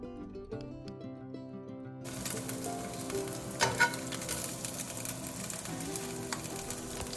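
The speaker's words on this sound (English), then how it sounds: "I'm going to be sauteing this until the garlic turns light golden brown." Chopped garlic and ginger sautéing in a pan, a soft steady sizzle with occasional utensil clinks that starts abruptly after a short stretch of quiet music.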